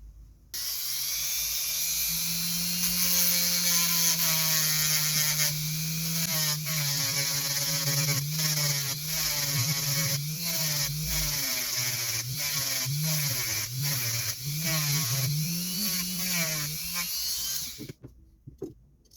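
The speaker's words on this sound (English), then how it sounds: "Now let me get my Dremel real quick." A Dremel rotary tool works on a 1950s Swiss Monti Super spinning reel, its high motor whine running steadily for most of the stretch with rising and falling pitch as pressure changes, then cutting off at the end.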